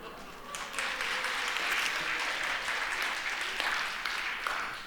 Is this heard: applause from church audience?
yes